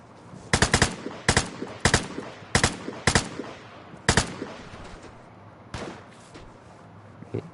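SVU sniper rifle firing in a video game: a rapid string of about eight loud, sharp shots in uneven bursts, close and alone with no talk.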